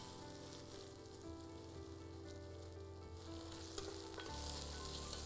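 Onion, garlic and a few cashews sautéing in hot oil for a methi matar paneer gravy, a steady close sizzle with soft stirring scrapes throughout, no talking.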